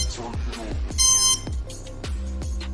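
Short electronic beeps from a Radiolink Crossflight flight controller during programming, a quick series of near, loud tones ending in a longer steady beep, with no talk.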